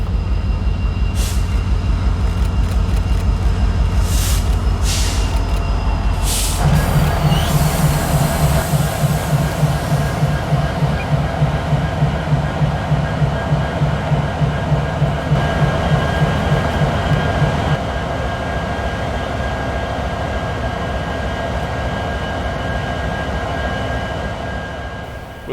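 A Norfolk Southern locomotive shoving in reverse back toward its train on the former N&W Roanoke District, a steady, fairly loud diesel rumble with a rhythmic chugging that holds for several seconds, then eases into a smoother drone.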